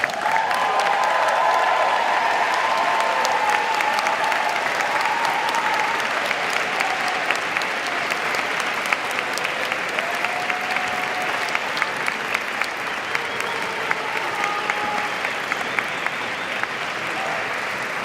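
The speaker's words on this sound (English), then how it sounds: "Seniors, please give them a hearty round of applause." Seniors at a university baccalaureate service applauding parents and families, a long, full, even roar of crowd clapping that holds steady throughout with scattered sharper claps standing out.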